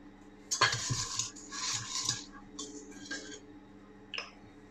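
A ladle clinks and scrapes against ceramic ramekins while mandarin flognarde batter is portioned out, giving close, bright metallic taps and rattles over a steady low kitchen hum, ending with one last clink.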